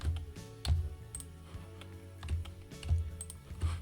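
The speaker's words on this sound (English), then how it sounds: "hold each number down while holding the control key down on your keyboard and selecting the numbers" Computer keyboard keys are pressed in quick irregular taps while numbers are selected, close and fairly soft over a low steady hum, with no talking.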